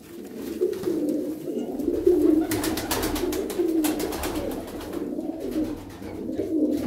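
Pigeons coo in low, repeated murmuring calls close by, a soft steady rhythm with occasional fluttering bursts.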